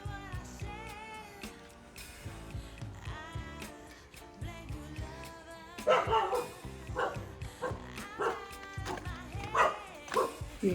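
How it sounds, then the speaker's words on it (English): Five or six dogs bark and yip at a small gate on a rural farm near Mangalore, India, a busy overlapping chorus that grows louder and more excited partway through. "5 to 6 dogs to welcome us"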